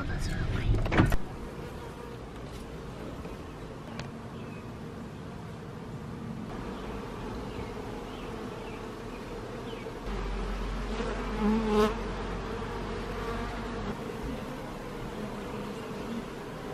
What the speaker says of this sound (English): Here are Grandpa's honeybee hives.